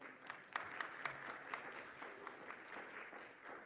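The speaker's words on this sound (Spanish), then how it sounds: "Un aplauso para Luis." Audience applause at a cacao-sector sustainability event, steady clapping from a medium crowd lasting several seconds at a moderate level, with a few sharper claps standing out.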